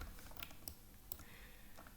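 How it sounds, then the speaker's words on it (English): A computer keyboard gets a few light key taps, including the delete key, as lines are cleared in a 2D drawing program. The clicks are quiet, scattered and close, over faint room hiss. "Okay, press delete on the keyboard."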